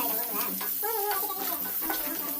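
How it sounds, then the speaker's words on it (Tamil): Onions sautéed in a pan for a mutton curry gravy, a low crackling sizzle with scraping stir strokes and a brief tonal squeak partway through. "வெங்காயம் பொன்னிறமாக வர அளவுக்கு நல்லா வதக்குங்க."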